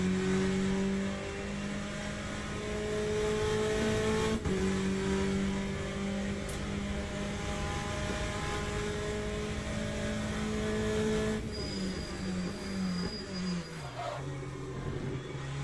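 A race car in Le Mans Ultimate at Monza, heard from the driver's view, holds a loud steady engine whine, then several upshifts step the pitch, with a downshift and drop in revs near the end.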